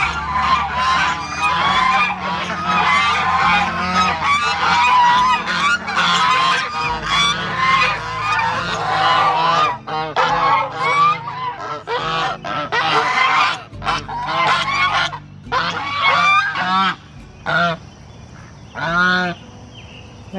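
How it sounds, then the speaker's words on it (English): A flock of geese honks loudly and continuously close by, the calls thinning into scattered honks toward the end. "and then I'll show you the geese"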